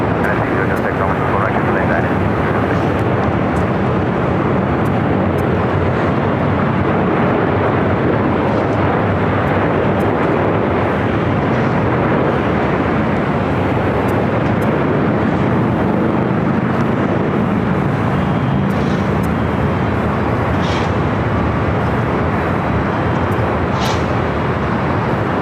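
Jet aircraft at LAX airport landing or taxiing, a loud continuous roar of engine noise that stays steady throughout, with a radio voice speaking over it.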